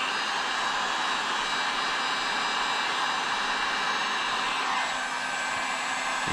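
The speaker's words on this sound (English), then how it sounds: "The heat gun really does work though." A heat gun blows steadily and loudly at close range on a stuck front wheel bearing of a Suzuki LTZ250 ATV, giving a continuous broadband hiss with no talk over it.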